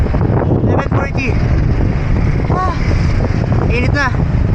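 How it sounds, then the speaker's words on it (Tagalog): Strong wind buffeting the microphone during a road bicycle ride on a Laguna loop near Binangonan, a loud constant low rumble with passing whistling tones and faint background traffic. "Pero at least mahangin."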